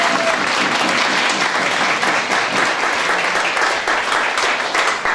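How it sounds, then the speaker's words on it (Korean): An audience claps steadily and densely at a Justice Party founding convention in Daejeon, continuous close applause from a large crowd with no break. "박수 부탁드리겠습니다"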